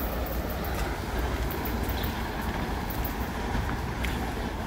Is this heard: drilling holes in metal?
no